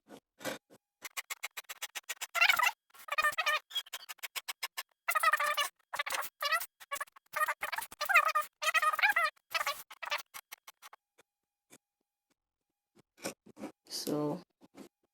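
Scissors snipping through fabric for a kimono dress, rapid bursts of close, crisp cutting strokes in quick runs with brief pauses, quiet otherwise.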